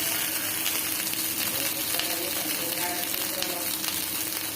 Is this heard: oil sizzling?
yes